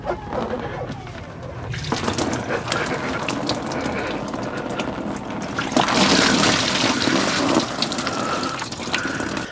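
Lower radiator hose being worked off a Chevrolet Silverado 1500 5.3 Vortec with a cracked radiator, with clicking, rattling handling noises and coolant splashing and pouring into a drain pan, growing louder toward the end.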